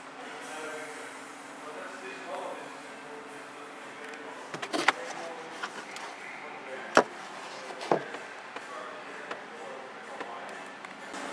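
A MINI Cooper Clubman (2017) sunroof motor runs with a steady low electric whine and hum, broken by a few sharp clicks and clunks as the roof panel moves, heard close inside the cabin.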